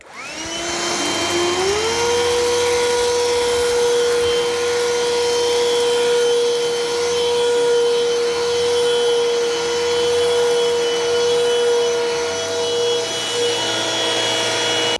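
Black & Decker Dustbuster handheld vacuums run on carpet with a loud, steady motor whine that ramps up at the start and holds for the whole stretch, close to the mic and with no voices.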